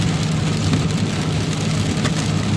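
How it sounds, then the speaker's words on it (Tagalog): Heavy rain pours down in Dubai, a loud, steady rushing roar with no let-up and no voices. "almost 3 hours na yung ulan, hindi pa rin tumigil"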